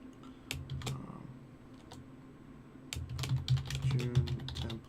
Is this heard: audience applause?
no